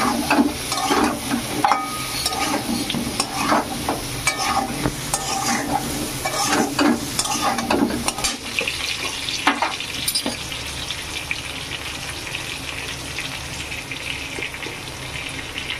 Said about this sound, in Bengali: ভালো করে লবণ আর হলুদ দিয়ে পটলগুলোকে নরম নরম করে ভেজে নেব।